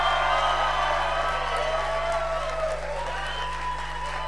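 A comedy club crowd applauds and cheers, a dense, steady wash of clapping with scattered whoops that tapers slightly toward the end.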